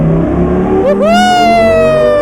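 A modded Audi with a crackling, popping exhaust in Euro Truck Simulator 2 revs hard, its loud engine note dipping briefly and then climbing into a sustained, rising whine.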